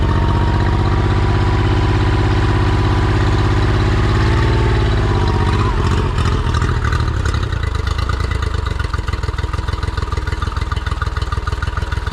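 An outboard boat engine on earmuffs with water running through it idles steadily at close range, a low continuous rumble that briefly shifts pitch, then settles into a rougher, pulsing idle.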